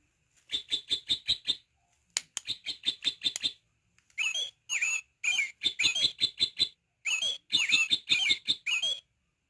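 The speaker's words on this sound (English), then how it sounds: "I love that sound all the beautiful songs that the birds sing." Birds chirp and sing in quick bursts of bright, rapid notes, repeated in short phrases separated by brief pauses, close and clear.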